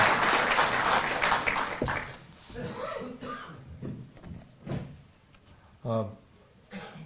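A crowd at a Delhi government ceremony gives a burst of loud applause that fades over about two seconds, after which someone speaks into the quieter room with a few coughs and knocks.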